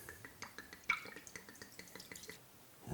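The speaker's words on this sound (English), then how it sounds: "we're gonna put in our red wine." Red wine poured into a pot for Christmas glögg, a faint, steady trickle with small drip-like splashes, close by and with no talking.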